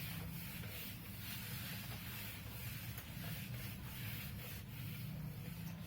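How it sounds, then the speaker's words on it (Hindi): Chalk is rubbed off a classroom board in repeated back-and-forth scrubbing strokes, a continuous close, rough rubbing sound with a steady rhythm. "Okay, now let me rub this."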